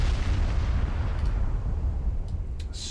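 Warships trade fire in a video game naval battle, with deep rumbling booms and explosions rolling together continuously, a few sharp bursts cracking through near the end, loud and without speech.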